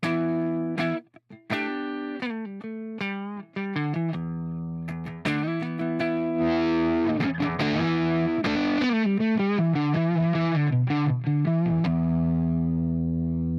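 Electric guitar played through a Line 6 Helix amp model with the volume knob rolled back and a compressor active, loud distorted chords and ringing notes with chorus-like shimmer, sustained alone for several seconds.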